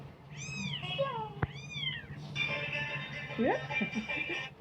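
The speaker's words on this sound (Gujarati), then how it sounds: "એ છે બિલાડી" A cat meows twice close by, high drawn-out cries a moment apart, then a person's voice and some background noise follow.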